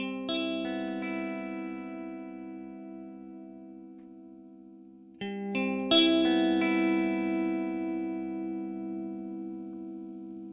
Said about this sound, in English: I've got a guitar kind of arpeggio thing.